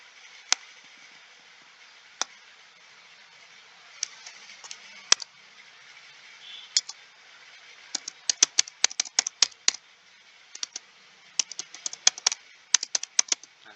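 Computer keyboard keys tapped in irregular bursts, scattered single clicks early then quicker clusters of keystrokes, close and moderately quiet with no talking, while working on a VLOOKUP and HLOOKUP exercise.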